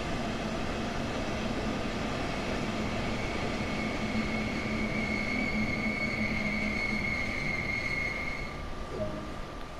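Train in Train Sim World on PlayStation 4 slowing to a stop at a station, a steady rumbling roll with whining, gradually falling tones that fade as it comes to a halt, no voices.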